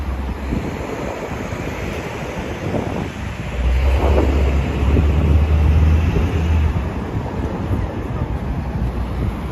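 Steady wind buffets the microphone with a low rumble throughout on a Manhattan street at evening, growing stronger and gustier midway, with no voices.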